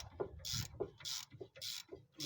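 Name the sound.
ratchet loosening Ford Focus suspension bolt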